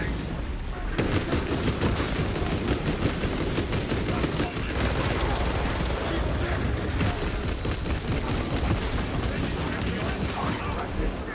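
Sustained turret gunfire in Warhammer 40,000: Space Marine 2 pounds steadily and loudly during a Carnifex fight, a dense stream of shots with mechanical clatter and booms mixed in.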